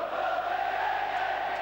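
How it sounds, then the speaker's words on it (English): A football stadium crowd at a Sheffield United match roars and cheers in a continuous, loud, distant wash of voices. "the crowd enjoying this now"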